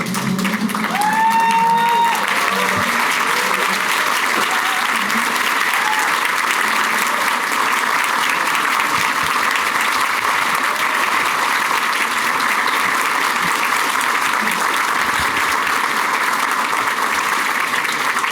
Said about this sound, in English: I would like everyone, if you're able, to stand to your feet and applaud and thank Amanda Agosti.